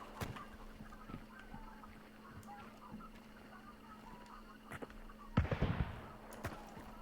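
Distant gunshots in the Hunt: Showdown video game, several faint sharp cracks spaced irregularly across a quiet ambience, followed by a louder, closer rustling burst near the end.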